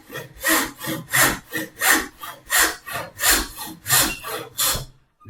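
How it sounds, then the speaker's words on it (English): A hand saw cuts through wood in about ten even, rhythmic strokes, each a loud rasping push-and-pull close by, before the sawing stops. "you can hear the pitch of the sawing getting higher"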